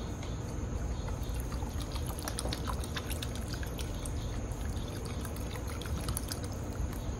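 Water glugging steadily from plastic bottles into a deep Lodge cast-iron skillet set over charcoal, a continuous splashing pour with light drips, close and fairly loud with no talking.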